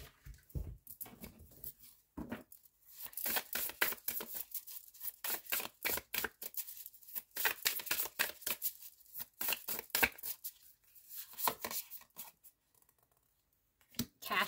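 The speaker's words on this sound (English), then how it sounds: "Some of you guys don't like the shuffling." Tarot cards being shuffled by hand, a long run of rapid riffling and flicking bursts with brief pauses between, close and fairly crisp, no talking.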